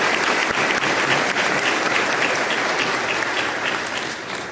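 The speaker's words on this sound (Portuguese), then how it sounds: "para quem eu peço uma salva de palmas" Applause from the audience at the Flamengo candidacy launch for Luiz Eduardo Baptista, with a dense, sustained roar of many hands clapping together that stays loud throughout and eases off slightly at the end.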